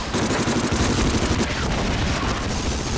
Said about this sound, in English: one day I will be free of this machine gun fire